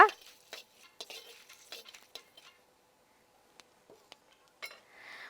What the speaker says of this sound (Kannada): ಇವಾಗ ಒಗ್ಗರಣೆನ ನಾವು ಚೆನ್ನಾಗಿ ಮಿಕ್ಸ್ ಮಾಡ್ಕೊಳ್ಳೋಣ.